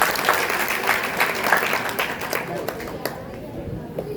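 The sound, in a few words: students clapping, applause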